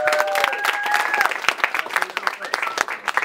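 Crowd at a rap battle event in San Diego cheering, whooping and clapping loudly, a dense continuous roar with scattered shouts and a voice calling out over it.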